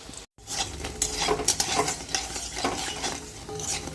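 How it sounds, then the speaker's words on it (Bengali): Food stirred and fried in hot oil in a kadai (wok): a steady close sizzle with scraping, clattering stirs, starting after a brief moment of silence. "উল্টে পাল্টে লাল লাল করে ভেজে নেব।"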